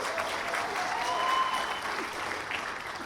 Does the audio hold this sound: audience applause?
yes